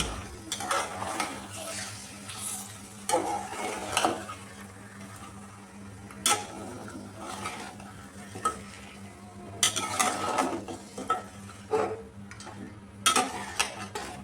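Mutton curry gets stirred in a pan, with repeated bursts of scraping and clinking spoon strokes against the metal over a low background sizzle, close and irregular, with no speech.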